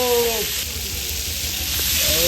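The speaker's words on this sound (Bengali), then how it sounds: "এটা ভাজার জন্য দিচ্ছি" Steady, loud sizzling of meat frying in hot oil for kala bhuna fills the clip, with brief voices at the start and end.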